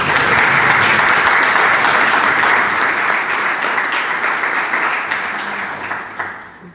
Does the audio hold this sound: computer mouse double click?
no